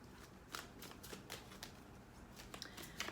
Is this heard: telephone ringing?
no